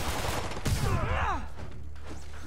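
A gunshot rings out in the video game Spider-Man (2018), one sharp crack followed by a short tail of echo and mechanical whirring.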